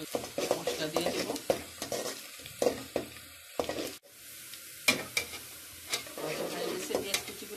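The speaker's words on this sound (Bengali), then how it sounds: "এখন পেঁয়াজ কুচি তিনটা, পেঁয়াজ কুচিগুলো ভেজে নিচ্ছি।" Chopped onions fry in hot oil in a pan, with a steady sizzle broken by repeated scraping stir strokes, close and fairly quiet.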